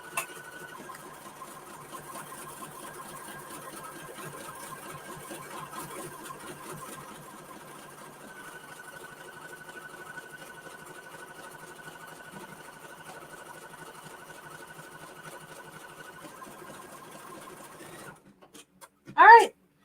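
A sewing machine running a triple stitch, a steady, even mechanical whir that goes on for most of the clip at moderate volume, then stops and is followed by a short tone at the end.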